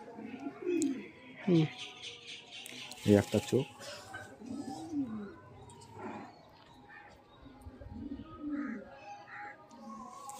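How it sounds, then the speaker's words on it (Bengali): A small pigeon gives low, soft coos scattered among the sounds while someone talks close by for most of the time. "ছোট পায়রা"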